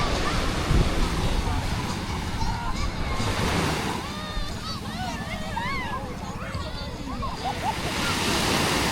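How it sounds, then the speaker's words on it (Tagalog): Sea waves wash onto a beach shore in a continuous broad roar mixed with wind, while people talk nearby in the background. "Kahit medyo malabo yung dagat, gawa ng ano eh, may alon eh."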